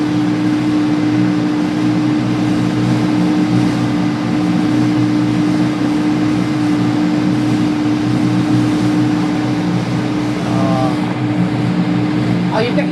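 An amphibious duck boat on a river in Boston drones with a steady, loud engine hum and whine that holds throughout as the gas is pressed, with people talking over it.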